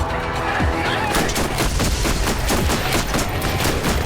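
Gunfire and a grenade blast in Borderlands Remastered gameplay, a dense run of rapid shots and bursts with a sharp early impact, steady and loud throughout.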